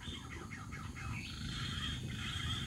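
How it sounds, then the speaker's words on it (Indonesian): A punai daun green pigeon calls outdoors in a series of faint, repeated chirping notes over soft background noise. "itu burung punai datang"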